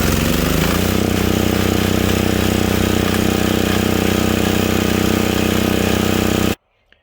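Generator engine cranks and catches, then runs loud and steady with a constant throbbing drone for several seconds before cutting off abruptly.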